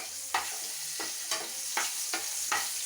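Ground masala paste for a vathal kuzhambu sizzles lightly in a pan while a spatula scrapes through it in regular strokes, roughly every half second, under a continuous frying hiss.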